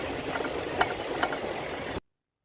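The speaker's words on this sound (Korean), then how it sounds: "연료 공급 튜브의 홀더가 엔진의 진동에 의해서 마스터 실린더와 부스터를 때리는 소음으로 판단됩니다" A fuel supply tube holder on a Hyundai Palisade LX3, shaken by engine vibration, taps against the brake booster and master cylinder: two faint sharp knocks over a steady low engine idle hum.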